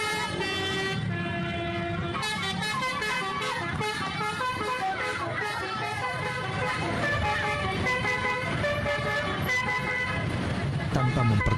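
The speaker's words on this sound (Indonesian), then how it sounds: "bus yang membunyikan klakson berirama alias telolet saat melintas di jalan raya" An Indonesian bus sounds its rhythmic telolet horn on a road, a loud multi-tone musical honking melody played in repeated phrases over traffic noise, with voices in the background.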